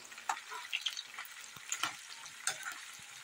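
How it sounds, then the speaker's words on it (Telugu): Mutton for pickle fries in a pan with a faint, crackly sizzle, broken by intermittent light scraping and stirring strokes, with no talk. "చక్కగా ఎర్రగా ఫ్రై చేసుకోవాలి, అప్పుడు పచ్చడి చాలా బాగుంటుంది."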